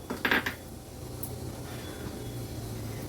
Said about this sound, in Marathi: वालाच्या डाळीची भाजी बनवण्यासाठी गॅसवर आपण ही कढई ठेवली आहे